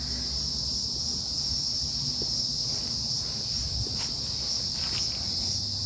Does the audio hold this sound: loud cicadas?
yes